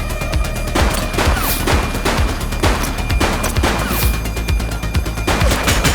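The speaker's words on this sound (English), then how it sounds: "He's shooting!" Rapid bursts of gunfire crack out in a police video game, The Precinct, with dense overlapping shots and impacts hammering loudly and continuously through the scene.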